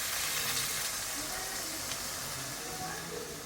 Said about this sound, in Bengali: আজকের মাংসটা পুরোটা কড়াইতেই কষিয়ে করছি